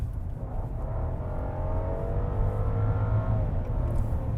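Rolls-Royce Phantom Series II under full throttle in a tunnel with the windows up, a hushed, steady low drone and engine hum rising gently as it accelerates, muffled and constant throughout.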